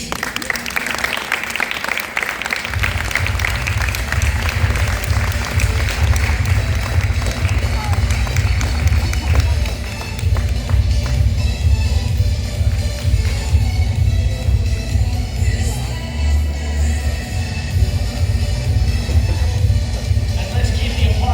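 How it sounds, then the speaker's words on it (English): Applause at a robotics competition qualifier awards ceremony, a large audience clapping loudly and continuously under a low rumbling hum, with an announcer's voice near the start. "let's keep the applause going"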